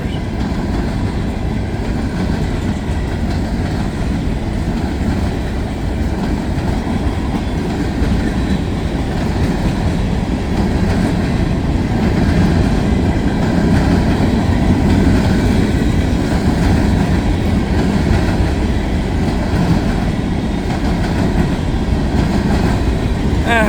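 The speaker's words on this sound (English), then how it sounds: "A couple of tank cars there, and now we're back to the hoppers." A long freight train of covered hopper cars and a couple of tank cars rumbles past at close range, a steady loud roar with continuous rattling and clacking of wheels over the rails.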